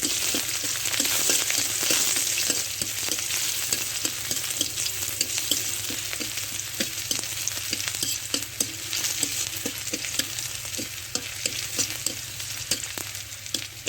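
Dried chili and garlic frying in a pan for a cabbage and fish curry, a continuous loud sizzle with a rapid regular run of spatula taps and stirring scrapes, no talking.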